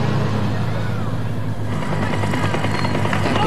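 A helicopter films a 1995 road cycling race in the Basque Country, making a loud, constant rotor thrum and whine close by with no break.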